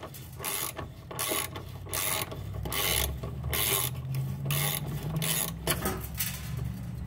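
A ratchet loosens a 10 mm bolt under a 2000s Volvo S60 during fuel filter work, sounding as a series of rhythmic clicking bursts, about a dozen quick strokes with brief pauses, close and crisp.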